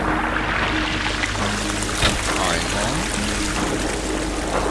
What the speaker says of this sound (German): Ich fülle einfach mal alles mit Wasser.